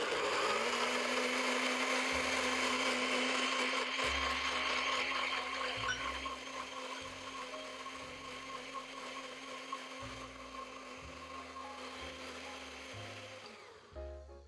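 A blender whirs steadily while mixing a date-sweetened sauce for a vegan meatloaf, loud and close, with its pitch wavering before it winds down and stops at the end.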